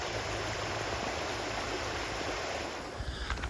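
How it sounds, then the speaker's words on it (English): A creek flowing right beside a campground in Pennsylvania, a steady, loud, broadband rush of water close by with no talking. "This is a creek that's right next to it."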